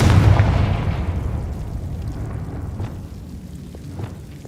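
Confringo spell in the game Hogwarts Legacy bursts into a deep, booming explosion that hits at the very start and rumbles away over a few seconds, leaving a low, fading roar.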